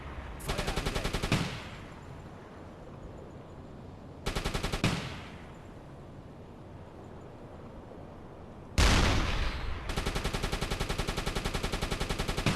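A U-boat deck gun fires in a submarine video game, three separate rapid rattling bursts of shots with short quiet gaps between them, loud and close.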